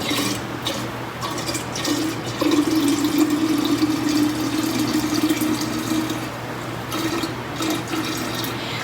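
Willow bark tincture liquid is poured from a large Pyrex pitcher into a half-gallon jar, a steady, close trickling stream with a slight gurgle that continues for several seconds.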